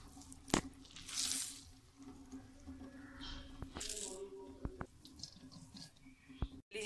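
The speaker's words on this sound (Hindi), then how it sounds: "मैं यहाँ पे हाथों की सहायता से कर रही हूँ, कुछ इस तरह लेके हम इसको ऐसे करके इसका सारा पानी निकाल लेंगे।" Grated radish is squeezed by hand to press out its water, making intermittent wet squishes, drips and trickles with a few small clicks and rattles in a quiet kitchen.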